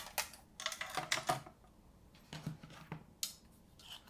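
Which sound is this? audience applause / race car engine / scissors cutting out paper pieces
scissors cutting out paper pieces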